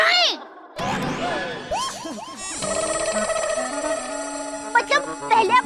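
A telephone rings in a busy Hindi family-comedy household scene, an electronic ringtone repeating over chatter and overlapping voices, with a bright electronic chime tune near the end.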